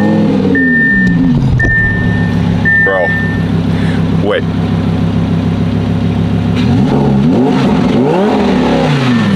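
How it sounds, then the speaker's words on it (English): A twin-turbo Audi R8 rumbles close by in a garage, its exhaust rising and falling through several revs over a steady engine drone, while a beeping tone sounds briefly and someone speaks. "You gotta hear this exhaust though."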